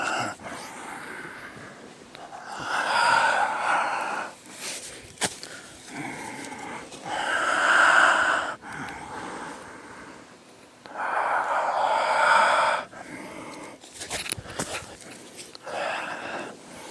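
Heavy, rhythmic breathing during a high-intensity interval training yoga workout, long loud exhales and inhales in repeated waves, close by, with soft movement noises between breaths.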